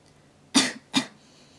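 Two sharp coughs in quick succession, close and fairly loud, with quiet in between and after.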